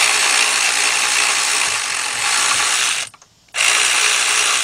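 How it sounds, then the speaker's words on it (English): A power ratchet spins a bolt on a timing-chain job for a GM V6 engine, giving a loud, close, continuous buzzing whir that stops briefly and then starts again. "Feel the bolt, bring your ratchet down."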